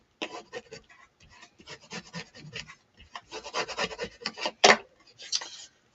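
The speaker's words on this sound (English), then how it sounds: "I'm just going to burnish that down." Paper burnished down onto a small 3 x 4 index card mini journal, a series of quiet close rubbing and scraping strokes in irregular bursts, with one sharper louder stroke near the end.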